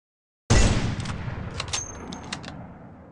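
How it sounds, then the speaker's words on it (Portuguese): Gunfire from the W gun in the mobile video game Free Fire MAX: a sudden loud blast after a moment of silence, followed by a decaying rumble and several quicker shots. "E agora vamos ver os tiros da W"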